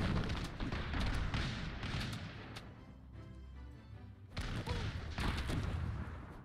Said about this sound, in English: Oof, those explosions are hefty.